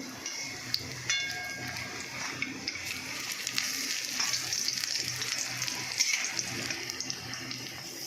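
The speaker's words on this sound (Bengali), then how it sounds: "বন্ধুরা, ভাজা আমার হয়ে এসছে।" Vegetable fritters (bora) fry in a pan of oil, producing a continuous moderate sizzle and crackle with a few small clicks, heard close with no voices over it.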